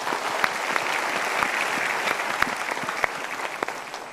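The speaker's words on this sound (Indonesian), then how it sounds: "kita berikan tepuk tangan" Studio audience at a motivational talk show applauding steadily, a continuous dense patter of many hands with a few sharper individual claps standing out.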